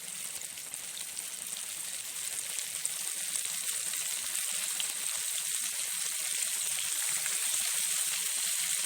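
Catfish pieces fry in hot oil on a gas stove, giving a steady, close, crackling sizzle with dense popping that continues evenly throughout without talk.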